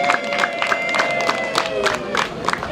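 Women ululate at a Rwandan traditional marriage ceremony (gusaba no gukwa): rapid, high, trilling pulses repeat in a steady rhythm over a lively crowd.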